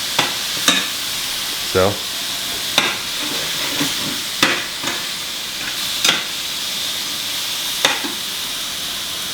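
Meat sizzles steadily in a hot pan, a constant bright frying hiss broken by sharp spatters and scraping stir sounds every second or so, with a brief word spoken once.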